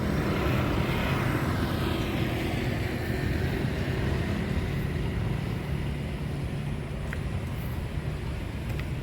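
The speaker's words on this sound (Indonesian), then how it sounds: "Nah, ini ada lagi yang mau take off. Ini kayaknya China Airlines." A China Airlines passenger jet takes off at Soekarno-Hatta airport, its engines giving a loud, continuous roaring rumble that holds steady for several seconds outdoors, with no voices.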